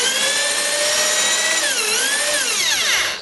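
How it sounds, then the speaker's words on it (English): A power drill whines steadily at high speed, its pitch dipping and rising as it bites into a boat transom, loud and close with no talking. "and we just slowly start drilling."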